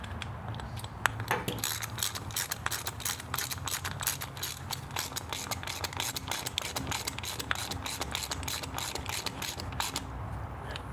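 A ratchet wrench tightens an intake bolt on a 2022 Harley-Davidson Road Glide Special, giving a steady run of rapid, close metallic clicks that lasts nearly the whole stretch with no talking.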